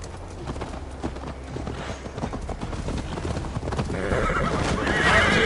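Horse hooves clip-clop in a quick, steady rhythm as Eivor rides toward Tamworth in Assassin's Creed Valhalla, with a horse whinnying and people talking over the hoofbeats.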